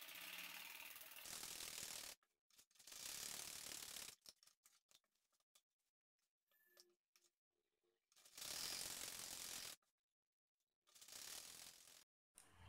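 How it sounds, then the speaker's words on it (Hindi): A sewing machine stitching the seat seams of a pajama pant, running in bursts of fast mechanical whirring and clatter, close and loud, stopping and starting with quiet pauses between runs. "अब यहाँ पे हम आसन पे सिलाई लगाएंगे"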